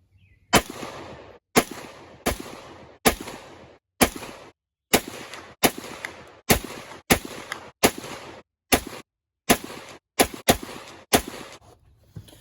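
An SKS rifle fires about fifteen loud, sharp shots outdoors, each bang trailing off in a short echo, with irregular gaps of roughly half a second to a second between them and no talking.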